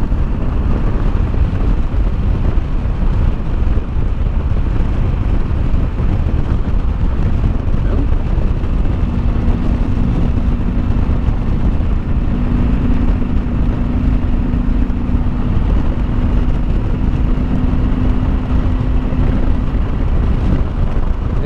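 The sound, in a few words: 2007 Honda VTX1300 trike riding in 5th gear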